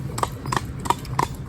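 Hooves of a driven horse pulling a vehicle clip-clop on a hard road in a steady, even rhythm of four clear strikes, close and fairly loud, with faint background noise and no talking.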